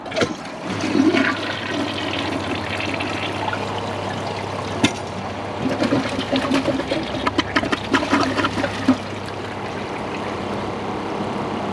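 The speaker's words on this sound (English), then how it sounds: "I'm going to hold down the handle" A 2015 Kohler Cimarron toilet flushes with the handle held down. Rushing water and a steady swirl drain loudly and close for about twelve seconds, with gurgling toward the end.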